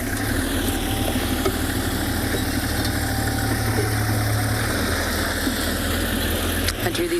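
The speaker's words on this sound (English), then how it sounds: "As you can hear, there's another vehicle in this siding" Another safari vehicle idling nearby at sunrise on a Tswalu game drive, a steady low engine rumble with a constant vibrating drone throughout.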